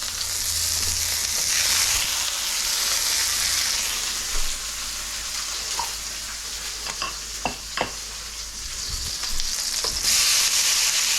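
Garlic chives and tomatoes sizzle and fry in a wok with scrambled eggs, a steady close hiss broken by a few sharp clinks and scrapes of stirring.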